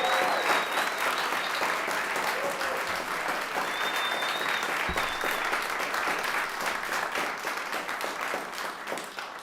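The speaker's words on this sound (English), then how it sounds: "can we have one more round of applause, loud as can be, for all of our state finalists?" An audience at a state Poetry Out Loud finals event gives a round of applause for the finalists, sustained dense clapping that stays loud and even throughout, with a few faint voices mixed in.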